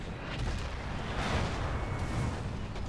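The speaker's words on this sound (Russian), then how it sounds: "Сколько орудий стреляет и не могут попасть." Artillery cannons firing in the video game Napoleon: Total War, a dense, continuous rumble of booming shots blending together across the whole stretch, loud and steady with no clear gaps.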